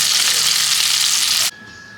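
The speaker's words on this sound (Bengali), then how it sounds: "মাছগুলো একটু কড়া ভাজবো।" Pieces of katla fish being fried in hot oil: a loud, steady, close hiss and crackle for a second and a half, then cut off sharply to a quieter background tone.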